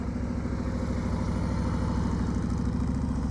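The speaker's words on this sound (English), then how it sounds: "Shane's got his motorcycle on" A motorcycle engine idles close by during a slow-speed riding practice session, a steady, loud, low rhythmic chug with no voices over it.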